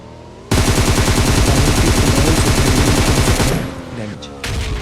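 Gunfire in the mobile battle-royale game PUBG Mobile, a loud rapid burst of automatic shots running for about three seconds over a vehicle engine drone, then a brief lull before the engine and shooting resume.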